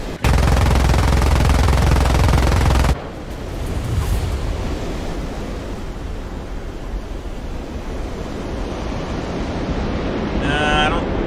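Sustained aircraft machine gun fire during a strafing run in War Thunder, a loud dense roaring burst for about three seconds, followed by engine and wind noise with a brief faint rattle near the end.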